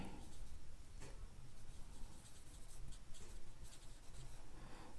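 Quiet scratching of marker or chalk strokes on a board as punctuation marks are written, short bursts of rubbing with brief pauses between strokes, no voices.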